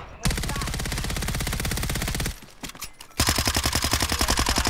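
Loud, continuous automatic gunfire in a shooter video game, a rapid stream of shots that cuts out briefly for scattered quieter pops and then resumes at full volume with another fast burst.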